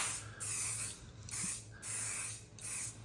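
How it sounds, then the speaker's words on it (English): Spray paint can misting test coats onto plastic parts, with four short, close hissing bursts separated by brief pauses. "what we're gonna do is give a test spray. We're just gonna mist this on there"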